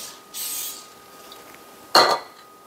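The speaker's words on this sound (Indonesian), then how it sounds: "ini kertas minyak aku mau kasih minyak kasih semprot minyak" Cooking oil sprayed onto greasy baking paper while making rice crackers: a brief soft hiss of spray, then a quiet pause and a sharp clink of a dish or utensil near the end.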